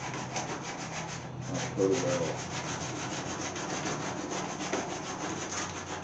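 Hand sanding along the metal hood of a 1929 Chrysler at a repaired corner, a steady close scratchy rasp of sandpaper on steel that keeps going without a break.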